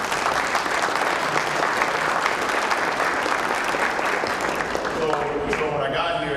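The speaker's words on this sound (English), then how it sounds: "Please round of applause for that." An audience at a Hall of Honor ceremony breaks into sustained applause, a dense, steady patter of many hands clapping close by, with a voice starting to speak near the end.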